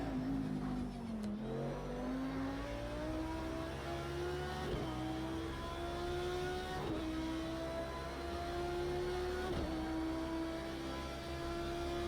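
Simulated GT3 race car at Bathurst in Project Cars 2, its engine loud and continuous, rising in pitch through each gear and dropping sharply at several shifts, with a brief popping near the start.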